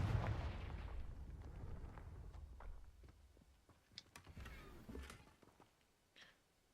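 A Confringo fire spell from Hogwarts Legacy explodes in a rumbling, low blast that slowly decays, followed by scattered crackles and debris pops, all faint and without talk.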